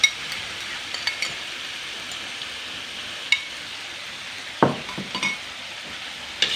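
Shredded chicken for spicy red-seasoned ayam suwir goes into a hot pan with a steady sizzle, then is stirred with a few sharp scraping clanks of a utensil against the pan.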